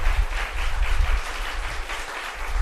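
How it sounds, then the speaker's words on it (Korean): Congregation in a church breaking into applause, a dense, steady wash of many hands clapping together at close range with no talk over it. "우리 다 같이 하나님께 영광 돌리는 박수 한번 쳐요."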